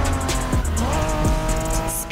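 Honda NSX, a 1990s supercar, driving in The Crew Motorfest racing game, its engine droning steadily with pitch sweeps as it shifts, tires briefly squealing, loud and close throughout.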